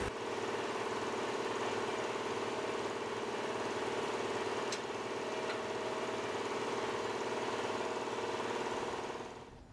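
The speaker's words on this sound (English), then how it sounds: "I'll grind this down so I can see that a little bit better." An angle grinder works steadily on the sill of a car body mounted on a rotisserie, a continuous loud whine holding for nearly ten seconds before it winds down at the end.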